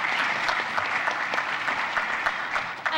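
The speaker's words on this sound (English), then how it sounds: "Let's give them a round of applause." A theater audience at a children's stage performance breaks into sustained applause, dense continuous clapping across the whole stretch without speech.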